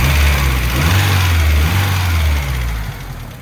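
A 1992 Honda Civic hatchback engine idles loud and close, with a steady, slightly wavering low whine held over a constant mechanical hiss.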